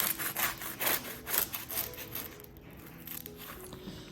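A serrated knife saws through crispy, hollow choux profiteroles, making repeated rhythmic crunching, rasping strokes close up, fairly quiet, with no talking.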